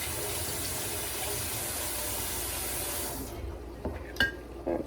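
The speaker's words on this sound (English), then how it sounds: "let's rinse it off, then cut it up." Vegetables rinsed under a running kitchen tap, a loud steady rush of water that cuts off near the end, leaving a few faint clunks and handling knocks.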